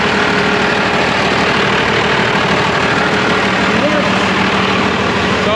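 A Ford truck engine runs steadily at idle, a loud continuous rumble throughout, with a voice talking over it.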